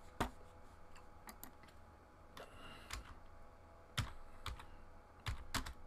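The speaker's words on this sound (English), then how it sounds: "Let me type it in." Typing on a computer keyboard in a quiet indoor room: scattered clicks and short bursts of keystrokes, fairly close and clear, with no talking.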